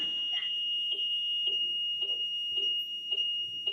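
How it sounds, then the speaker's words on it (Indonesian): A motorcycle's anti-theft alarm sounds after the engine is switched off, a steady high electronic tone with evenly spaced chirping pulses about every half second, fairly close. Someone speaks over the start. "Ini otomatis sekali matikan motor, alarm pasti akan nyala."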